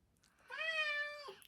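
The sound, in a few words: cat Sherlock meowing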